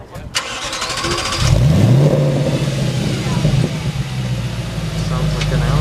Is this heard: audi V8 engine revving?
yes